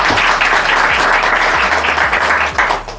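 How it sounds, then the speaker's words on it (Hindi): A crowd of students at a celebration in a computer training institute claps steadily, a dense continuous applause that stays loud and close for the whole stretch. "बहुत जोरदार तालियां।"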